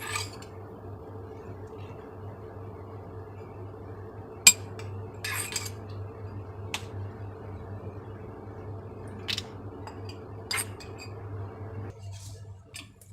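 White rice is spooned into three glasses, two spoonfuls each. A faint hum runs underneath, broken by a few sparse, sharp clinks of a spoon against glass spaced several seconds apart, with no voices.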